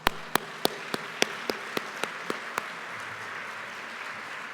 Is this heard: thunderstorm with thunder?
no